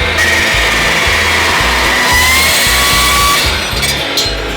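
A power tool cuts small steel angle pieces for a welding platform, a loud, close grinding whine pulsing in a rough repeated rhythm with a brief brighter screech near the end.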